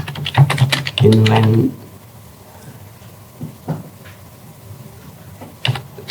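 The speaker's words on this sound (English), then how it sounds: "To start with, I'll just type the formula." Computer keyboard being typed on while entering a formula, a quick burst of close clicking keystrokes followed by a single heavier thump and a few scattered taps in a quiet room.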